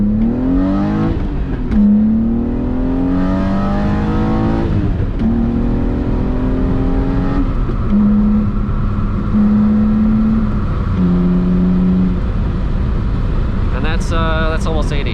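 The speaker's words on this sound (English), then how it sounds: "So I'm gonna hop on the 71 North ramp here and do a little pull for you guys." A BMW E36 M3 with a lighter flywheel accelerates hard up a highway on-ramp, engine pitch climbing through several gears with short dips at each shift, heard from inside over wind noise while someone talks.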